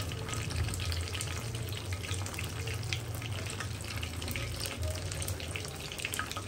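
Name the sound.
frying puffed-rice pitha in hot oil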